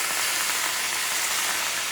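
Thin churrasco steak sizzling in hot oil, a steady dense hiss with no breaks, close and even throughout.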